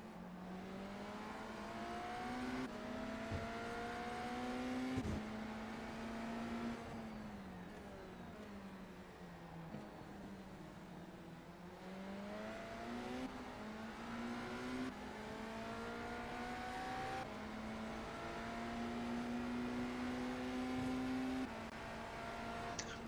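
Race car engines in the iRacing sim during the Daytona 24 Hours, a steady onboard drone that climbs and falls through repeated gear shifts and revs, close and continuous, with no talking.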